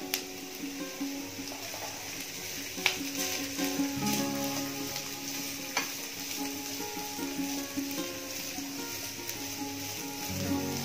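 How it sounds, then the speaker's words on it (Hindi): Chopped onion and capsicum fry over low heat in a pan, giving a close, steady sizzle with occasional scraping stirs and clinks throughout. "इस सबको हम अच्छे से हल्की आंच पे फ्राई कर लेते हैं"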